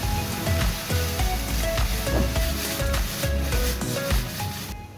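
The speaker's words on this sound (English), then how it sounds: "So I'm going to add a bit of oil to that and give them another stir." Mushrooms stirred in oil in a pan, a loud continuous sizzle with repeated scraping and rubbing strokes of a utensil, close up.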